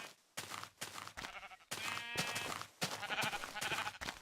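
Several quick bleats from Minecraft sheep come in a choppy run, close and fairly loud, with short breaks between calls.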